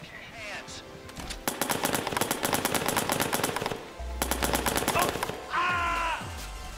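Rapid bursts of paintball gun fire in the video game Watch Doggies 2, two loud volleys of quick regular shots with a brief pause between them, while a voice speaks over parts of the clip.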